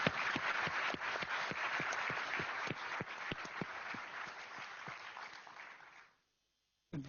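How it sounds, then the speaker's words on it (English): Conference audience applause for student speakers, a steady wash of clapping with distinct individual claps standing out, fairly faint and distant, fading out toward the end before a brief silence. "is a big applause for you as well"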